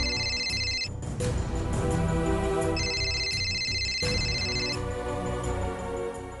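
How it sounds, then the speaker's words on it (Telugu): An incoming call rings on a phone as a bright electronic ringtone, played in two repeating bursts separated by a short gap, over soft background music. "సీత గారు ఈ టైంలో ఫోన్ చేశారేంటి?"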